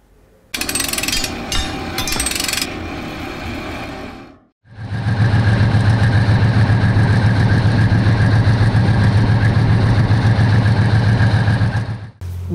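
A tank engine runs loud and steady in the Tank Museum's tank park during Tankfest, with a harsh clattering rattle at first, then a brief dip before a sustained, even rumble with a droning hum carries on alone.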